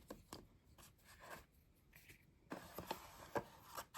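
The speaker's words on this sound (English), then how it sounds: "Let me do some shuffling." Quiet, close shuffling of Benchwarmer trading cards from a 2017 hobby box, a string of soft scraping and slapping flicks that grows busier toward the end.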